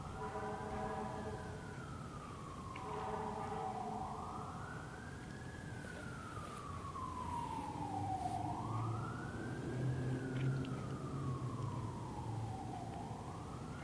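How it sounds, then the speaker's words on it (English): Emergency vehicle sirens wail in long rising and falling sweeps, repeating about every four to five seconds, heard from a distance behind a low rumble of traffic. "I was quiet for a moment because of the sirens that are going on in the background"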